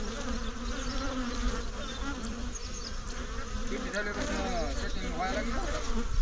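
A steady, dense buzzing of many honeybees around a bee box fills the air continuously, with faint background voices and ambient noise beneath the swarm.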